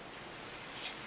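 Steady in-game rain from the Stormworks weather settings, set fairly heavy, hissing evenly and continuously throughout with no talk.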